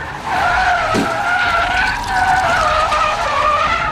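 Cars skid on a freeway, a loud, sustained tire squeal that wavers in pitch for several seconds, with a brief thump of impact near the start and engine noise underneath.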